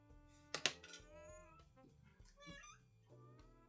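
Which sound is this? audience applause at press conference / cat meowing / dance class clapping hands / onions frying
cat meowing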